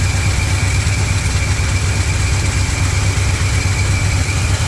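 A turbocharged 351 engine fitted with an MSD ignition box runs at a steady, loud idle, its deep, even rumble and vibration continuing unbroken and close, with no talking.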